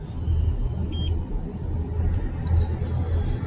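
A car cruising along the Delhi-Mumbai Expressway, a steady low road rumble and engine drone heard from inside the cabin, with faint brief beeps over the top.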